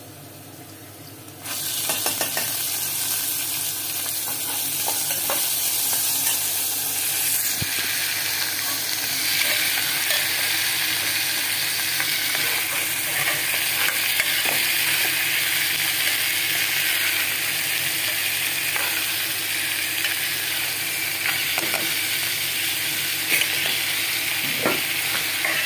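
Chana dal with onion frying in a pan, a continuous close sizzle that starts abruptly and holds steady for over twenty seconds, with occasional faint clicks of stirring.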